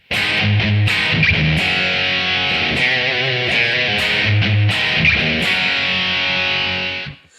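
Distorted electric guitar plays the chord part with short rhythm hits between the chords, loud and close, sustained and ringing for about seven seconds, alone with no voices.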